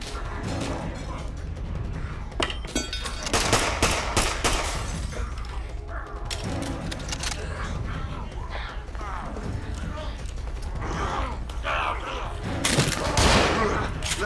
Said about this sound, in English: Boom shotgun.